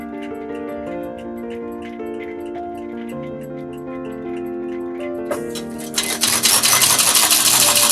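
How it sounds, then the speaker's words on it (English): Industrial stitching machine sewing leather pointe shoes in a workshop: steady tonal ticking under background music, then a louder rapid run of stitching noise in the last two seconds, close by with no talk. "Now it's ready to go to the stitching machine."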